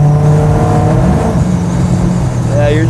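The LS9-engined Chevy Chevelle, a 750-horsepower car, kicks down and pulls hard, a loud, sustained engine drone that shifts pitch partway through, heard from inside the car.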